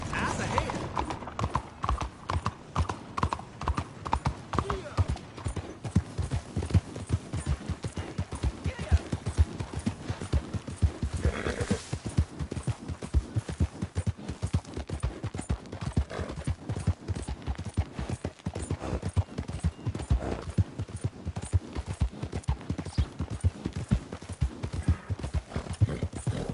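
A horse gallops in Red Dead Redemption 2, its hoofbeats a fast, dense, even rhythm held close and loud throughout, with talk over the top.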